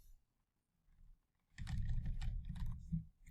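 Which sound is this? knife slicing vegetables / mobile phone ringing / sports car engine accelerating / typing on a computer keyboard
typing on a computer keyboard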